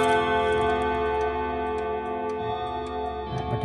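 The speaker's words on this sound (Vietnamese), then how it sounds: "Chiếc đồng hồ này về bên sưu tầm sách tay thì đến nước Pháp về vẫn chạy bình thường" An antique French ODO mechanical clock ticking with a steady, regular beat, heard close up beneath a sustained, ringing metallic chime tone that fills the room.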